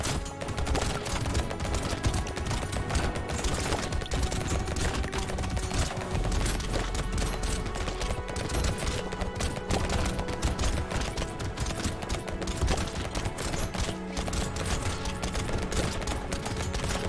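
A minigun-like SMG in the video game Brotato fires in a dense, nonstop stream of rapid shots at steady loudness, with no speech.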